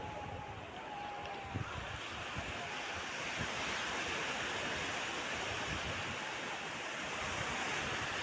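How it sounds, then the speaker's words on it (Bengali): Continuous broadband roar of sea waves washing in at Bakkhali beach, steady and fairly loud, with wind buffeting the microphone. "সমুদ্রের ঢেউ দেখো ঢেউ"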